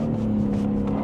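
A BMW M3 CS engine holds a loud, steady rev with the tyres spinning in second gear, heard close and continuous for a brief moment without talk.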